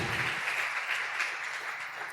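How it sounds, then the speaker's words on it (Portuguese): A church congregation at a worship service claps for visiting guests, a fairly soft, steady patter of applause heard at some distance. "Vamos dar uma salva de palmas para esse pessoal que está aqui hoje com a gente"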